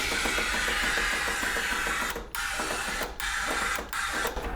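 A paint sprayer hisses in steady, loud bursts while being cleaned, its tip spraying into a bucket of dirty water; the continuous spray breaks off briefly several times between short pauses.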